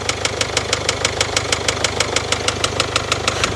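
A diesel engine idles loudly and close, with a steady, rapid rhythmic knocking clatter repeating about five times per second over a constant low rumble.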